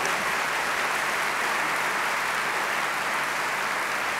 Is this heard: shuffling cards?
no